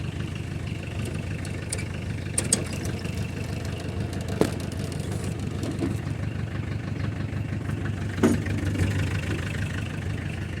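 A tractor engine idles and chugs steadily at close range while a homemade rear hitch lifts, with a few sharp metallic clanks from the linkage.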